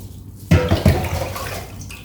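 About a litre of rice-soaking water pours into a cooking pot for a pickled water spinach recipe, a sudden close gushing splash that starts abruptly and then settles into a steady watery rush.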